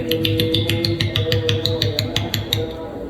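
Rapid rhythmic flutter made by mouth, a quick train of soft fluttering pulses imitating bird wings flapping, steady for about three seconds.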